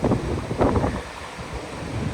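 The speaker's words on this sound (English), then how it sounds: "It's a cold and windy, rainy, blustery kind of day." Blustery cold wind at Peterson Lake on Alaska's Kenai Peninsula buffets the microphone in low, rumbling gusts, strongest at the start and then easing into a softer rush.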